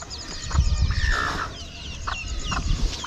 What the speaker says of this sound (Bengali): এই যে ছোট ছোট মুরগি, তার সাথে মুরগির এই বাচ্চাগুলো খেলা করছে।